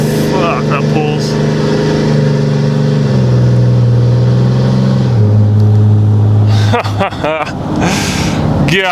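A tuned 2021 Ram 2500 Cummins diesel pickup accelerates hard, its loud, close engine drone climbing in pitch, dropping at a gear change, then pulling up again, with voices audible toward the end.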